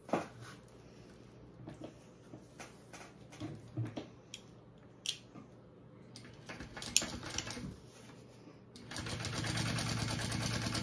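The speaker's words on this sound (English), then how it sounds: "I'm gonna top stitch this" A sewing machine top stitches fabric on a slip pocket of a hip bag. A few soft handling clicks come first, then a steady, dense mechanical whir starts near the end and runs on continuously.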